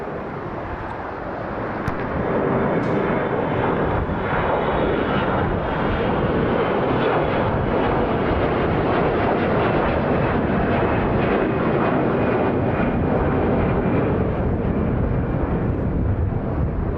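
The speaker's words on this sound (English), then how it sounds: "these passengers are aboard an aircraft type Boeing 737-8EH" Boeing 737-8EH airliner at Hartsfield-Jackson Atlanta International Airport with southeast winds: a loud, continuous jet engine roar that swells in the first seconds and holds steady throughout, with wind noise on the microphone.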